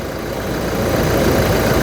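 A 2015 Toyota Fortuner diesel engine idles quietly in a steady, smooth low rumble, close and continuous for a couple of seconds.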